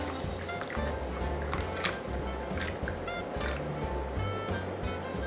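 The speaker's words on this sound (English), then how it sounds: "just gonna pour the rest" Thick homemade pumpkin pie filling pours steadily into a pie crust in a home kitchen, a continuous soft wet rushing and slopping that stays even and fairly close throughout, with no voices.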